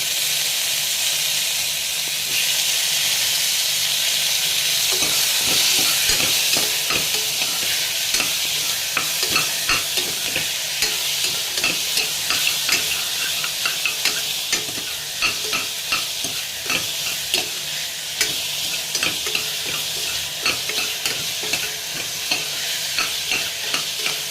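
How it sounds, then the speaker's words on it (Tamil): Steady sizzling and hissing of onions and tomato sautéing in a pan, with frequent scraping and stirring clicks throughout, loud and close. "வெங்காயம் வதங்கினோடனே அதில் கொஞ்சம் தக்காளி சேர்த்துக்கோங்க."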